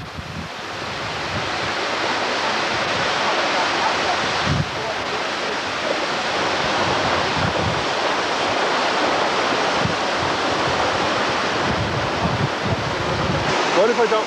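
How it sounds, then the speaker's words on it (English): Water rushing steadily through a sluice at Owen Foy's traditional corn mill in Bunnoe, Ireland, diverted toward the mill race: a continuous, loud broadband roar that holds for the whole stretch with small surges, and no voices over it. "This sluice diverts the water to the mill race."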